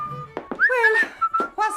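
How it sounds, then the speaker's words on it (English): A man whistling a short, wavering tune nearby, several breathy notes broken by brief pauses, with no talking. "You've never whistled in your life before."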